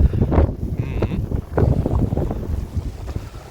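Strong wind buffeting the microphone on top of a tower beside Võrtsjärv lake, loud rumbling gusts rising and falling throughout with faint voices mixed in.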